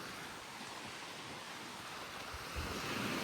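Choppy ocean waves washing onto a windy beach, a steady broadband wash of surf mixed with wind buffeting the microphone, swelling slightly louder toward the end, with no voices.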